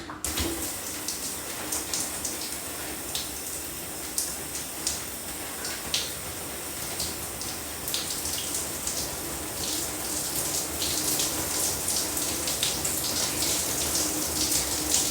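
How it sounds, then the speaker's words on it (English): Running water pours steadily while hair is rinsed out after conditioning, a continuous hiss and splatter with small irregular splashes, fairly close and with no talking. "Then when you're done doing that, you can rinse it out."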